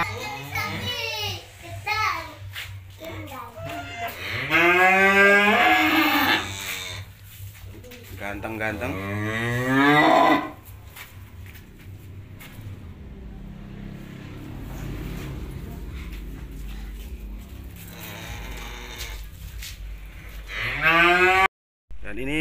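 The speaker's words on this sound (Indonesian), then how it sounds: "Ini sapi-sapinya." Limousin cattle mooing nearby during loading onto a truck, mixed with people talking over a low steady rumble of farm noise.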